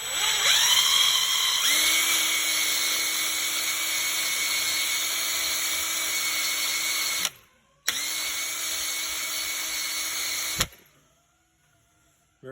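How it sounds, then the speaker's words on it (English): A small flap wheel spinning on a drill scours old rubber from a bore during a spherical bearing install, a loud steady high-pitched whine that drops out briefly, resumes, then stops. "I use a little flap wheel on a drill."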